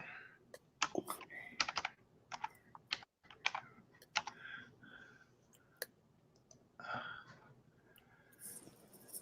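Close computer keyboard typing, with quick bursts of sharp key clicks broken by short pauses, and a faint breath or two in between.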